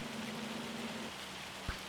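Hail storm in Farming Simulator 25 at Riverbend Springs, a steady, dense patter of falling hail across the whole stretch, fairly faint, with a low hum under part of it and one soft thud near the end.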